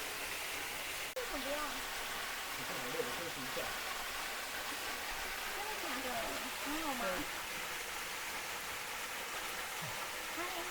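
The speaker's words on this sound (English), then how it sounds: "Waterfalls in the background there, look." A waterfall near Yinhe Cave in Taipei pours steadily in the background with a constant broadband rush, while someone talks over it throughout.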